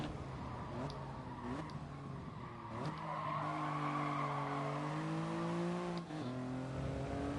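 A race car in GT Sport brakes hard into a corner, its tires squealing and skidding in long wavering tones over the steady engine drone, loud and close with no talk.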